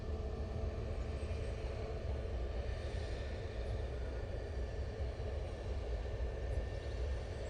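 Norse Atlantic airliner arriving at Manchester Airport, a steady, loud engine rumble with broad roar holding evenly throughout, no voices over it.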